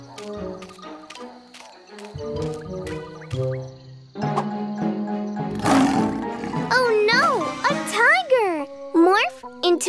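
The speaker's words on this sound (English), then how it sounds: "Into a lion, Morphle!" A cartoon lion roars amid bright musical stings and jingles, with a voice and other cartoon voices speaking around it; the roar rises in the middle of busy background music.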